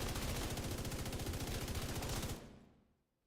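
Rapid sustained bursts from an LMG in a video game pour out a full magazine, a dense, loud rattle of evenly spaced shots that stops abruptly and trails off into fading echo.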